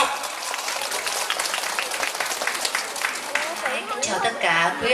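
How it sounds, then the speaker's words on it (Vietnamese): Audience applause at a church gift-giving event welcoming a female singer, a dense wash of clapping and crowd chatter that thins out as a voice begins to speak near the end. "Giờ đây mời quý vị cho một tràng pháo tay thật nồng nhiệt để chào đón nữ ca sĩ"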